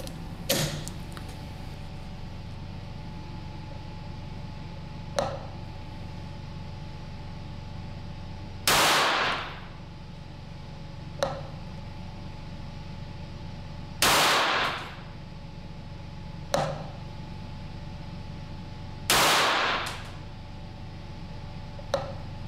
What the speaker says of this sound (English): We have 2 more groups to shoot, so let's load up for group number 3.